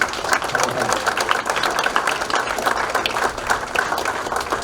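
A loud, full round of applause from banquet guests at a country club hall-of-fame dinner, thick continuous clapping with no break.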